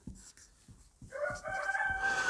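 A rooster crows loudly and at length, rising out of a series of rhythmic low thumps that come before it.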